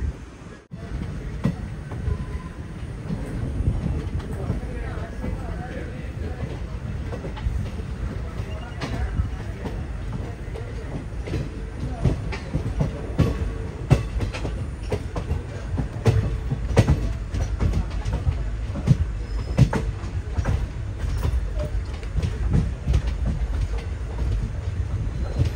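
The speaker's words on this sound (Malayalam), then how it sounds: "പൂങ്കുന്നം റെയിൽവേ സ്റ്റേഷനിലേക്ക് ഇതാ നമ്മുടെ ട്രെയിൻ എത്തിക്കൊണ്ടിരിക്കുകയാണ്." Passenger train from Guruvayur to Ernakulam pulling into Poonkunnam railway station, heard from a general class coach: steady, fairly loud rolling rumble with irregular clicks and clatter of wheels over the track throughout.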